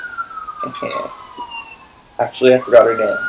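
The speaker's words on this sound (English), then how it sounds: "Can you guys hear the police sirens out the window?" A police siren wails faintly outside a window, a steady drawn-out tone running under a person talking nearby.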